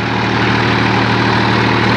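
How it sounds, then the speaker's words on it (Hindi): A Massey Ferguson 245 DI tractor engine runs at a steady idle nearby, a continuous low diesel rumble with no change in pace and no voices. "बहुत अच्छा ट्रैक्टर है ये मैसी 245 DI।"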